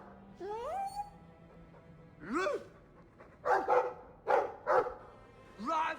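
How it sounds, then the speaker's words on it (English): A small dog yips and barks several times in quick bursts, mixed with whiny vocal sounds, over a quiet game background in Dragon Age II. "I like the doggy."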